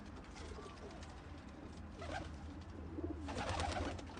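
Basrawi pigeons coo softly and intermittently at close range, faint low calls over a quiet background with a couple of louder bursts toward the end.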